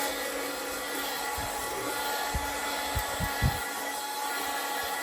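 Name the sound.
small handheld vacuum cleaning a pantry shelf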